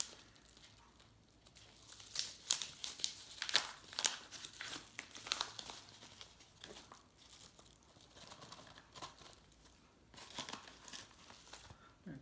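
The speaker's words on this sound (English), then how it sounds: "I'm going to take this out of the envelope and see if it's all it's cracked up to be" Paper envelope holding a vintage Hubley P47 Thunderbolt toy plane being opened, with close, quiet bursts of crinkling and tearing in irregular rhythm, no speech.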